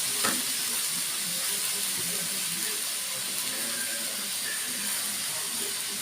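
Zucchini and tomato pieces frying in ghee in a pan give off a steady, even sizzle with a soft hiss that holds for the whole stretch, with no talking over it.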